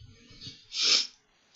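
A single sneeze bursts out near the microphone after a soft breath, brief and fairly loud, followed by a short click.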